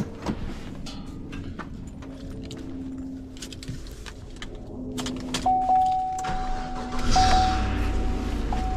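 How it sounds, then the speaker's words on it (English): Truck being started and pulled out: faint clicks and rustling at first, then a whirring tone and a louder low engine rumble building near the end, with no talk. "start this truck up and pull it out"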